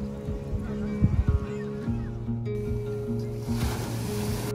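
Waves washing onto the shore at Shanyuan beach resort near Taitung city, Taiwan, a steady surf wash under sustained tonal sounds, with a louder rumbling burst early on and rising hiss toward the end.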